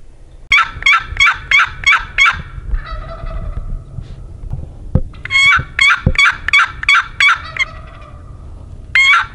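A wild Merriam's turkey jake gobbles loudly in Nebraska pine ridge country. Several rapid, rattling gobbles come in bursts, with softer clucking notes between them.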